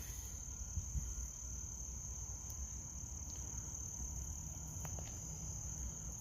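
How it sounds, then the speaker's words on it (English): Common bumblebees working an aster flower outdoors, a steady faint insect hum running through a soft outdoor ambience with a constant high-pitched whine above, no voices. "These are common bumblebees"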